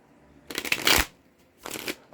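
Two short bursts of tarot cards being shuffled, a crisp riffling flutter up close, separated by a brief pause.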